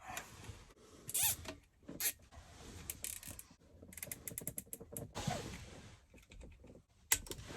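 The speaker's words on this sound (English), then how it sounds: "And we'll give her a zip tie." A plastic zip tie ratchets tight during an ARB Twin air compressor install, giving quick clicking, zipping bursts up close with scattered handling noises in between.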